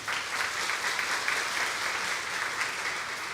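Audience applause for researchers at a network-marketing company seminar, a dense, even clapping from a large crowd sustained throughout, heard alone without talk.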